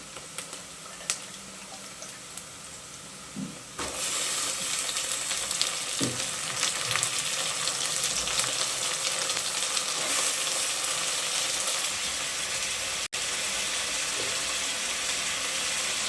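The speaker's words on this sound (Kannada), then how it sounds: "ಈರುಳ್ಳಿ ಫ್ರೈ ಆಗಿದೆ. ಈ ಟೈಮಲ್ಲಿ ತರಕಾರಿ ಸೇರಿಸ್ಕೊತಾ ಇದ್ದೀನಿ." Vegetables added to frying onions in a pan for avarekaalu (field bean) pulao, a quieter sizzle that jumps to a loud, dense, continuous crackling fry and carries on steadily with no talk.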